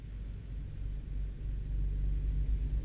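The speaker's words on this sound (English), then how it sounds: "The traffic." Low road traffic rumble in the Louisiana setting of a driving game, a deep, steady drone that swells slightly toward the end, with no voices over it.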